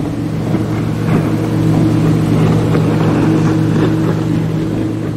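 A lifeboat's engine drones steadily as the boat runs at 20 knots toward the port of Le Croisic, a loud, close and continuous hum that holds level throughout.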